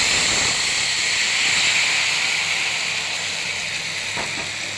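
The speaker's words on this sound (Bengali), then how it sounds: "দিয়ে দিচ্ছি বাগার" Onion and garlic tempering hits hot oil in a loud, continuous sizzling hiss that holds steady before easing slightly, with a few faint clinks near the end.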